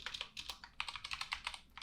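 Rapid keystrokes on a computer keyboard while code is written, a steady run of crisp, close clicks in quick irregular bursts, fairly quiet and with no voice.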